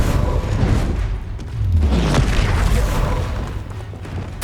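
A Confringo fire-blast spell from the Hogwarts Legacy video game booms loudly amid dense game combat noise, with a heavy low rumble swelling in the middle and lingering throughout.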